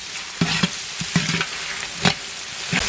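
Chopped onions sautéing in a large pan for a big batch of vegetable biryani, with steady sizzling and several sharp scraping stirs of a ladle against the metal, close and loud.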